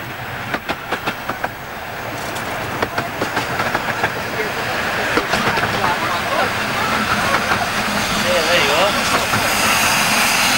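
A train pulling into Romney Sands station on the Romney, Hythe and Dymchurch Railway during a 1998 gala, rhythmic wheel clicks over rail joints growing louder and closer under ongoing talk, with a bird singing toward the end.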